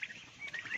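A young turkey poult, a crossbreed of Bourbon Red and Black Spanish, gives faint, short high peeping chirps, several in quick succession, heard close with no talking.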